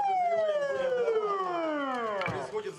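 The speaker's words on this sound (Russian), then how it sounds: "Под вой сирен служебных машин бойцы Росгвардии в считанные секунды обезвреживают преступников." Service vehicle sirens wail during a National Guard police training drill, a single loud descending tone sweeping down close by, with other sounds and voices beneath.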